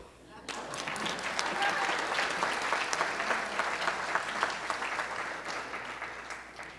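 Sustained audience applause fills a celebration honoring a championship-winning coach at Hampton University, a dense, steady clapping from a large crowd that swells in and holds for several seconds with no voices over it.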